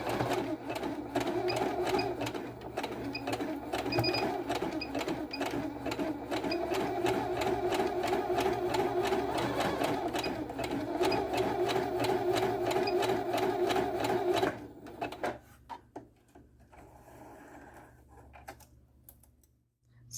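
A Lia sewing machine stitches zigzag stitches in a fast, steady rapid-fire chatter, close and alone for about fifteen seconds before stopping, leaving faint quiet handling sounds.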